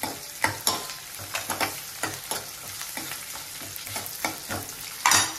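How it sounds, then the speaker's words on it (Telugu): Onions, carrot, green chilli and ginger frying in a pan for a hotel-style puri curry, a steady sizzle broken by repeated rhythmic scrapes and knocks of a spoon stirring, close and loud, no voices. "మనం తీసుకుని కట్ చేసి పెట్టుకున్న క్యారెట్, పచ్చిమిర్చి, అల్లం ఇవి కూడా ఒక 2 మినిట్స్ అట్లా ఫ్రై చేయాలండి."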